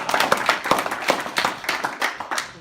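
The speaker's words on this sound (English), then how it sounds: "So can we please give a slow clap for Brett Snodgrass?" An audience gives a slow clap at a business talk, a loose group of hand claps landing in a steady, unhurried rhythm of roughly five beats per second, fairly close and with no speech over it.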